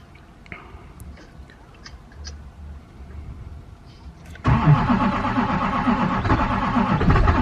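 A cold Duramax diesel truck engine cranks after a stretch of quiet clicks and rustles, then bursts into a loud, sustained, rough churning that carries on to the end.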